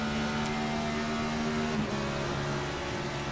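A NASCAR Next Gen car in the iRacing simulator holds a steady engine drone, and the pitch drops sharply partway through as the gear shifts before the tone settles again.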